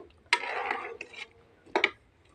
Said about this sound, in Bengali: সজনাটাকে অ্যাড করে আবার নাড়াচাড়া করে নেব অনেকক্ষণ।